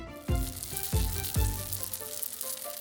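Chicken rice paper dumplings fry over medium heat in a pan, a steady close sizzle broken by several distinct crackling pops in a loose rhythm.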